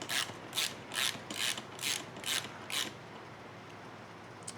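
A ratchet with a 10mm socket turning bolts on a Honda PC800 motorcycle dashboard gives seven quick, evenly spaced clicking bursts, close and distinct, then stops.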